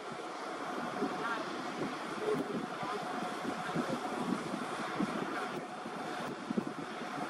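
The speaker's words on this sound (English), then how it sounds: "It's very windy out here." Strong coastal wind blowing across the SpaceX Starbase build site at Boca Chica, Texas, a steady gusty rush with a faint voice under it.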